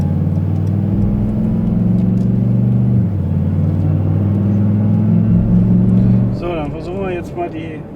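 A Brabus XLP 6x6 off-road vehicle rumbles along a test track, its heavy engine droning steadily and shifting pitch before fading, close and loud, with a voice speaking near the end.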